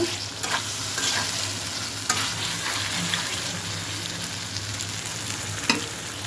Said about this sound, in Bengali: এখন বড় সাইজের একটা টমেটো দিলাম মাছগুলোতে